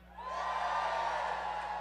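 Rally crowd at a Trump campaign event in Gastonia, North Carolina, cheering and whooping in a broad, steady roar that swells quickly and holds loud for nearly two seconds, with no voice speaking over it.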